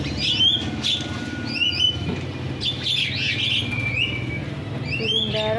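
Many caged birds, including pigeons, chirp and tweet in a busy overlapping chorus close by, with sharp repeated calls over a low murmur of cooing.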